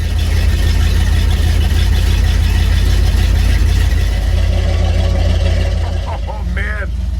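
A cold car engine idles roughly with its choke not hooked up, a loud, close, steady low rumble that continues throughout, with a brief higher squeak near the end.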